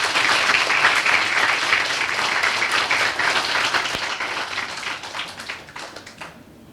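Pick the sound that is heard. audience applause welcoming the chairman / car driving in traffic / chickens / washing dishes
audience applause welcoming the chairman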